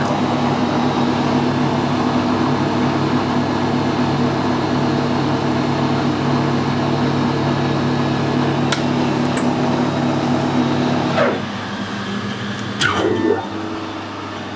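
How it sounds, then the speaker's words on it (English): A metal lathe running in reverse while cutting a 12mm thread parallel to the bore with taps and dies gives a steady, loud mechanical hum and whine, with a few sharp clicks and a brief drop in tone near the end. "And we'll reverse the lathe."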